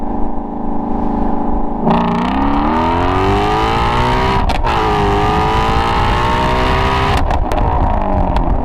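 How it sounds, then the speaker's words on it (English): A Ford Shelby GT350 with resonator delete and an X-pipe exhaust accelerates hard in first gear, shifts, then pulls through second, loud and close with a rising roar and a brief break at the gear change. "So I'm going to do a 20 roll from first gear all the way to second gear."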